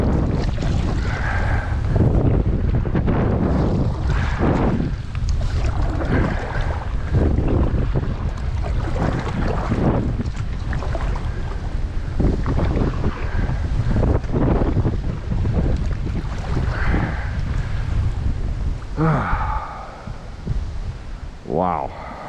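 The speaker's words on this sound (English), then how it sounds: "The wind was hitting speeds of 30 miles an hour or more" Strong wind of 30 miles an hour or more roars steadily across the microphone while kayak fishing on choppy Michigan water in October, with water movement beneath and a voice breaking through now and then.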